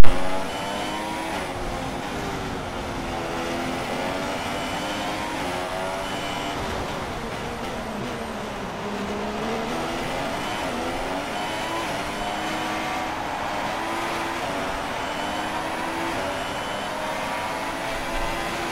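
Formula 1 race cars from the video game F1 2016 racing at the Australian circuit, a steady, loud high-pitched engine whine with rising and falling revs held throughout, no talking.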